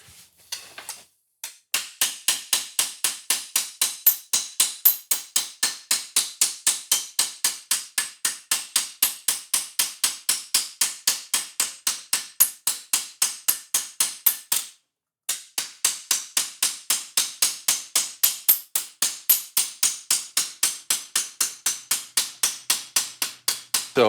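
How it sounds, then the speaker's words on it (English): A hammer planishes a brass sheet with rapid, evenly spaced overlapping blows, a steady sharp metallic tapping close up that runs in two long bursts separated by a brief pause. "I'm just doing overlapping hammer blows, compressing the metal a little bit"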